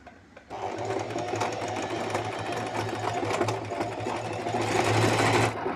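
A household sewing machine stitches along cloth for a pico hem, running steadily with a continuous fast motor whir and rhythmic needle clatter, close and loud, with no talking.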